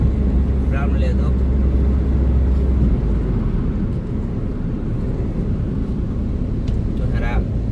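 An old Hyundai Verna car cruising smoothly on the road, heard as a steady low engine and road rumble from inside the cabin, with someone talking over it throughout.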